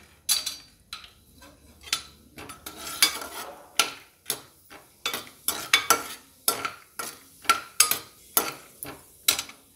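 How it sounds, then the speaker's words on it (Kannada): Peanuts go into a pan for poha and get stirred, giving a series of sharp scraping and rattling strikes in an uneven rhythm over a faint sizzle, close and clear with no talking. "ನೆಕ್ಸ್ಟು ನಾನು ಇವಾಗ ಕಡಲೆಕಾಯಿ ಬೀಜ ಹಾಕೋತಾ ಇದ್ದೀನಿ"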